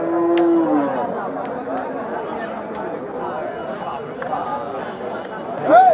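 A cow lows at a cattle market in Nilphamari, with one drawn-out moo near the start rising over steady crowd chatter and nearby voices talking throughout.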